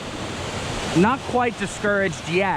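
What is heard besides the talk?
waterfall rushing in a river canyon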